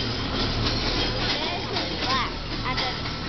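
A steam train runs steadily at a heritage steam festival, its continuous rumbling rail noise heard close, while voices talk over it.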